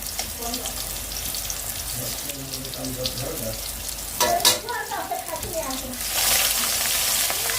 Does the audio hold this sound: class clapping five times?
no